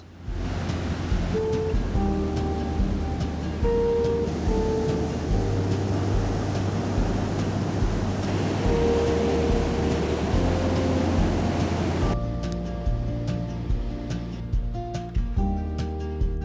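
Wild ocean surf breaking below cliffs on the California coast along Highway 1, a steady broad wash of wave noise that continues throughout, with a faint background musical drone and no talking.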